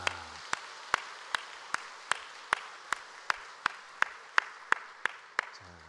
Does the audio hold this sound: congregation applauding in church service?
yes